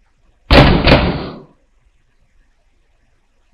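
A loud, close double bang on a locked door, two heavy thuds in quick succession that ring out briefly before silence, followed by a faint onset of another sound at the very end.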